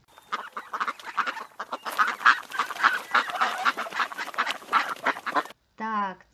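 Many ducks quack at once in a lively, overlapping flock chorus, followed by a short moment of a person speaking.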